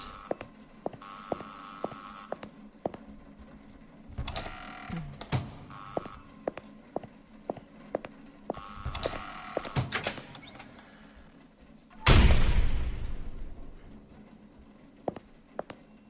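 A telephone bell rings inside a house in the video game Burnhouse Lane, repeated bursts of bright metallic ringing every couple of seconds, moderately loud, before falling silent; a sharp louder noise follows near the end.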